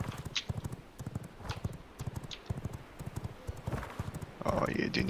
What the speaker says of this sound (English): Ah, run your wee horsey.